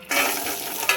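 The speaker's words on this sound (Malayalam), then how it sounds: "നന്നായി ഒന്ന് ഇളക്കി കൊടുത്തുകൊണ്ടിരിക്കുക, ഒരു ബ്രൗൺ കളർ ആവുന്നത് വരെ." Coconut pieces stirred and fried in a pan with cashews and raisins for a payasam, a brief close burst of sizzling with a soft scrape of stirring.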